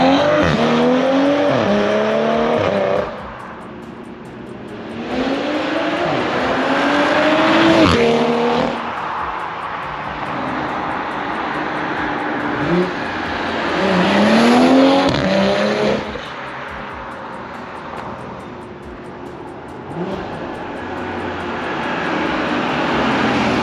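A BMW G20 M340i xDrive accelerates hard through several gears, its exhaust roaring with rising pitch sweeps and brief drops at each shift, loud and close from the cabin with no talk.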